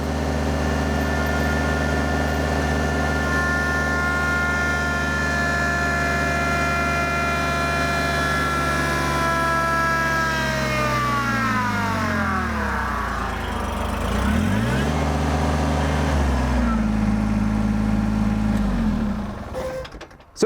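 A Kubota BX23s compact tractor engine holds a loud, steady high rev near 3,000 RPM, then its pitch sweeps down and wavers before settling to a lower, steadier drone close by.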